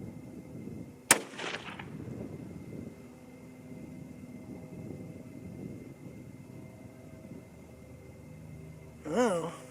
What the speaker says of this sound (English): first shot, cold bore, or clean bore, first shot is what counts